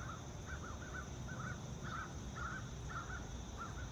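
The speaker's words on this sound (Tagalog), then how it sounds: "Bakit ang dami kong ibon?" Repeated harsh crow caws, about six or seven calls spaced roughly half a second apart, moderately distant over a steady low rumble of background noise.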